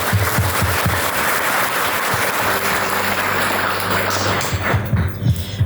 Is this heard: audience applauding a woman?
yes